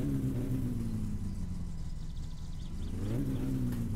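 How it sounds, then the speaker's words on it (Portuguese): A lowered Volkswagen Saveiro in the My Summer Car video game runs after a flooded engine finally catches, its steady mid-pitched drone rising briefly in a rev near the end. "Agora pegou, tava afogado o carro."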